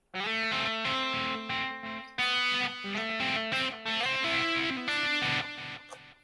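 Distorted electric guitar, a Strat-style guitar on its neck pickup position, plays a continuous run of loud, sustained chords and notes, with no voices.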